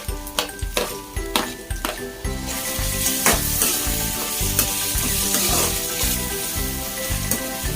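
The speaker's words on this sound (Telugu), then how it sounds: "ఇప్పుడు మనం ఇందులో నెక్స్ట్ టమాటాలు యాడ్ చేసేసుకుందాం" Tomatoes are added to onions and ginger-garlic masala frying in a pan, starting with a few loud stirring scrapes and spoon clinks, then a steady, close, hissing sizzle that carries on alone.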